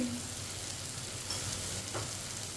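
Tomatoes and ground spices with salt, red chili, turmeric and cumin sizzling in a pan, a steady close frying hiss with faint stirring.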